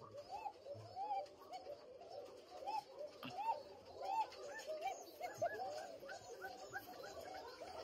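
White pigeons coo repeatedly in a loft, soft throaty rolling calls overlapping from several birds at moderate distance, with a dog barking faintly in the background.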